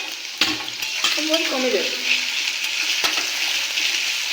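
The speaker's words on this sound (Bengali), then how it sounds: "মশলা এখন কষা চলছে।" Masala spices frying in a pan, with a close, continuous sizzle broken by stirring scrapes, and a voice speaking briefly over it.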